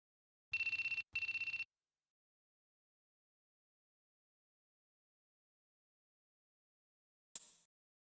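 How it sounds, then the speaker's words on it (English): A phone in Shin Megami Tensei III Nocturne rings in two quick electronic bursts near the start, then silence, with a brief faint chirp near the end. "that's your phone going off"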